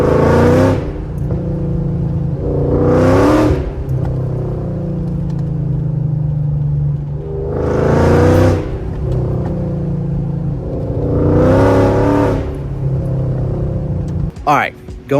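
A car fitted with a performance exhaust revs up several times, each rise swelling into a loud throaty roar before dropping back to a steady idle rumble, heard close by.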